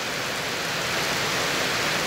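Heavy rain pouring down as a dense, steady broadband hiss that stays loud and even throughout, with no voices.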